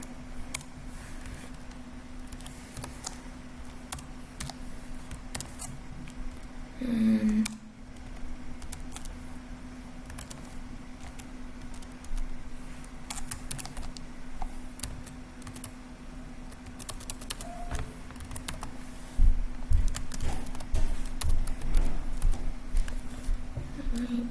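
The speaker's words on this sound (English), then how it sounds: "I'm just gonna type everything out" Computer keyboard typing while writing Python code: quiet, close key clicks in irregular bursts and runs over a low steady hum, growing busier toward the end.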